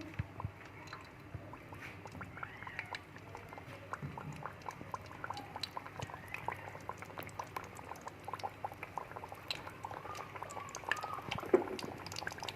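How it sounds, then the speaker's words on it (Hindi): Chicken tikka pockets deep-frying in hot oil over a medium flame, giving a steady low bubbling and crackle with scattered small pops that run through the whole stretch at a moderate, even level. "व्यूवर्स, मीडियम फ्लेम पे हम इनको फ्राई करेंगे"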